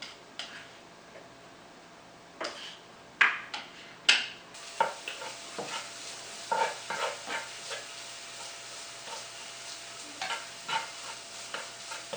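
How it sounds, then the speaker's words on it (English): Garlic and green onion sautéing in a pan for Vietnamese banh bao filling, a steady close sizzle broken by sharp stirring clacks and scrapes, with no talking. "And we will put some garlic, some green onion. We saute all of it."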